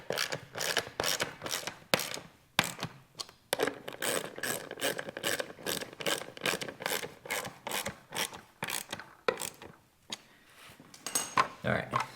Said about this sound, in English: go ahead and tighten up these nuts